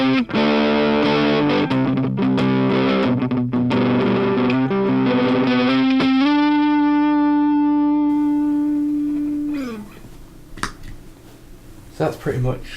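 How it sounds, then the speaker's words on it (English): Electric guitar through a modified Boss DS-1 distortion pedal on its ultra setting: heavily saturated chords and riffs, then a long sustained distorted note sliding down before fading into hiss, loud and close with no talking. "And finally the ultra setting on the modified DS-1."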